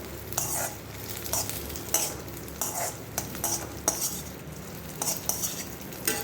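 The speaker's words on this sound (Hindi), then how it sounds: "बस अब इसको बिल्कुल हल्का सा धीमी आंच में हम सेक लेंगे।" Chironji seeds dry-roast over low heat in a kadhai, stirred with a utensil that scrapes and clinks against the metal in a steady rhythm over a faint sizzle, close up with no talking.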